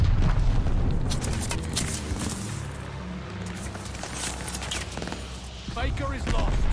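Explosions from a bombing run in a war video game roll on continuously: loud, booming blasts with sharp impacts layered over a deep rumble, while game voices talk and shout in the mix.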